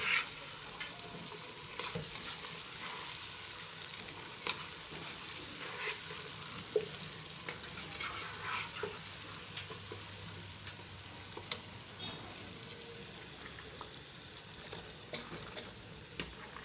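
Potatoes, peas and fenugreek fry quietly in a pan, a soft continuous sizzle broken by scattered scrapes and clinks as a spoon stirs them.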